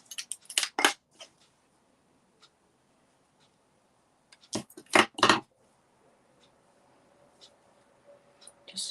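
Scissors trim a length of pink ribbon for a handmade card bow, giving two short clusters of close, crisp snips separated by quiet handling.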